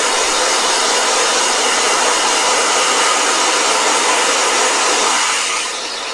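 Blow dryer drying a watercolor painting, a loud steady whooshing hiss held close for several seconds, dipping slightly as it moves away near the end.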